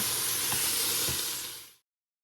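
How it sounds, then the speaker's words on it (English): Half an onion and chili ingredients sauté in a Dutch oven inside an Instant Pot, a loud, dense hiss and sizzle with two faint stirring knocks before cutting off abruptly. "And we're going to let that saute."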